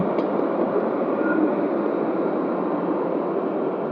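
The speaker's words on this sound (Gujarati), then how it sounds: "જો આ આવે છે ટ્રેન ઇઝરાયલની મેટ્રો ટ્રેન" A two-car metro train arrives at night in Jerusalem, Israel, rumbling in with a steady, broad whoosh and roar, close and constant, with no voices.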